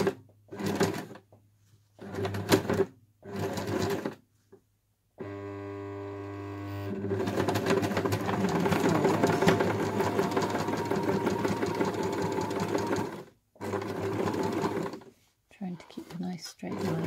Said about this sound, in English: So we're sewing just where the fleece meets the fabric.